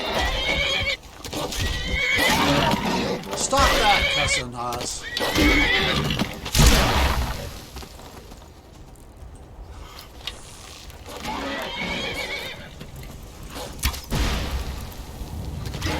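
A horse in Skyrim neighs loudly twice after being struck, the whinnies rising sharply near the start and again later, with clip-clopping hooves and someone talking over it.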